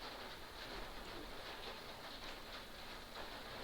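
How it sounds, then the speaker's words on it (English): Heavy rain falls steadily, a dense, even hiss filling the whole stretch without pause, loud and close with no speech over it. "Wow, it's raining hard."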